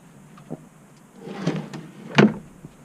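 Drawers in the kitchen of a Roadtrek 190 camper van are pulled open and pushed shut. A few soft, close sliding rubs are followed by light wooden clunks, spaced irregularly in a quiet interior.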